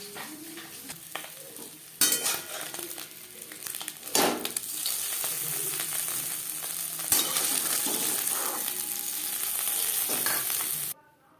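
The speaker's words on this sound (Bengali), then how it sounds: "মাছ ভেজে নেওয়া কড়াইতে আবারও তেল দিয়েছি। দিয়ে দিলাম কাঁচা লঙ্কা আর টমেটো" Chopped green chillies and tomato hit hot oil in a wok already used for frying fish, bursting into a loud sizzle with stirring clatter and scraping, the hiss holding steady before cutting off abruptly.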